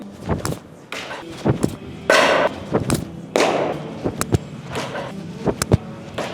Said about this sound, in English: regular baseball is gonna throw some heaters